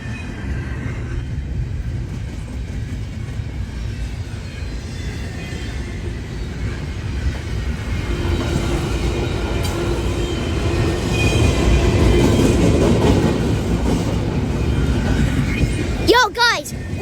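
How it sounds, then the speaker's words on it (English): A train rolls past on an Ohio railroad with a heavy, continuous rumble that swells louder midway, a brief wheel squeal near the end, and voices talking nearby. "but there's a train."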